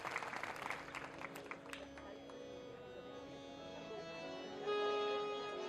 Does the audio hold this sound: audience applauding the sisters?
yes